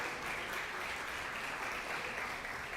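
An audience at a 2024 gathering breaks into brief, steady applause, a dense wash of clapping heard faintly and at a distance, with no voices over it.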